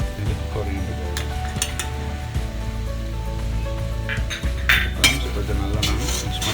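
A spoon mixes pepper, cumin, chili and coriander powders in a bowl, giving close metallic clinks and scrapes against the dish under a soft background hiss.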